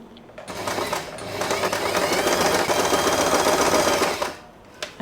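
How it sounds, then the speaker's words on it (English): A sewing machine runs for about four seconds stitching fabric for a multi-colored scrunchie, a close, steady rapid whirring that starts and stops cleanly. "After you finish sewing here, you can lift up the presser foot"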